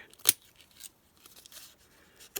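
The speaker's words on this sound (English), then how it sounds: "pull out your decorative scissors that you haven't touched in 10 years and put them to work in your journal" Decorative edging scissors snip through paper for a junk journal, with one sharp, close cut followed by a few softer, quieter snips in a quiet room.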